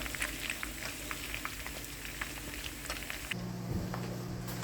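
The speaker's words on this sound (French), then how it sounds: "j'ai la viande qui est en train de dorer ici" Pork browning in a pan for suya, a steady crackling sizzle that stays close and even throughout, with no talking over it.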